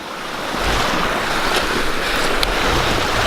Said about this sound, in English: we found this little stream waterfall thing coming down